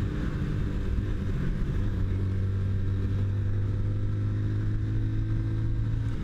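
Beth Iron Horse 180 motorcycle accelerating steadily toward top speed through its five gears, a loud, continuous engine drone with a sustained low hum and wind rumble, no talking.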